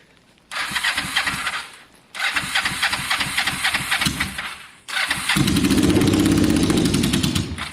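A motorcycle engine cranks and catches three times, cutting out twice before settling into a loud, steady, rumbling idle close by.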